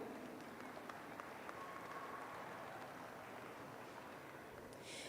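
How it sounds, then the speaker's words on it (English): Steady applause from the crowd at a junior Highland cattle show, the National Western Stock Show, a dense even patter of clapping that holds for the whole stretch at moderate distance. "if you'll join me in giving them a round of applause"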